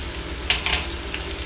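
Vegetables with bottle gourd stems frying in a pan with turmeric and salt, a steady low sizzle with a brief louder burst of stirring or clatter midway.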